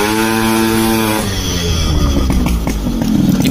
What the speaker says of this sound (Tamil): இதுதான் எக்ஸாஸ்ட் சவுண்டு